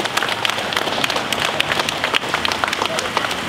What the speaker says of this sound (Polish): Dlatego wielkie brawa tutaj dla kibiców Legii Warszawa wszystkich.